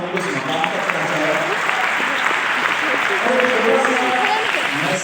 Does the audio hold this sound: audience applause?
yes